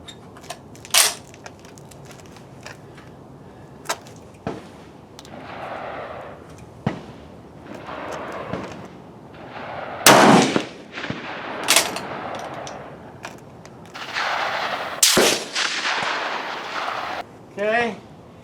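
Rifle fired at an outdoor shooting range, with several loud, sharp cracks spaced seconds apart and someone talking between the shots.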